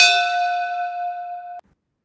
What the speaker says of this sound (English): I just heard the bell ring out there in Hershey.